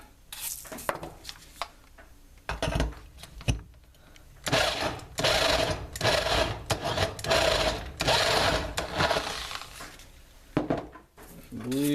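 A drill bores a hole through a metal mod enclosure for a dual-18650 DNA 200 build, with bursts of grinding whine and scraping, irregular starts and stops, close up, with speech around it.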